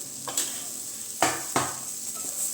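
Onion masala with chilli, coriander and turmeric powders being stirred in a pan for beef roast: a steady sizzle with a few sharp scraping strokes of a spoon against the pan, close and fairly quiet, no talk.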